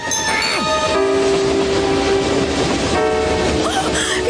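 A cartoon train rumbles along its rails with a steady clattering roar, loud and continuous, layered with tonal whistle-like hums and busy music.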